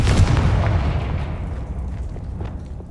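A Confringo explosive spell in Hogwarts Legacy bursts loudly at the start, then a booming rumble fades away over a few seconds.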